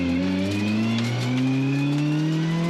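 Racing cars speed past on the Ledenon circuit, engines revving with rising and falling pitch as they go by close, loud and continuous, with no talk.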